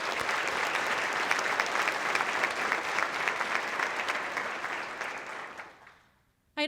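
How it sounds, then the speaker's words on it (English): Applause from the audience at a chamber of commerce annual meeting, a dense sustained round of clapping that holds steady, then thins and fades to silence near the end. "Let's give them all a round of applause."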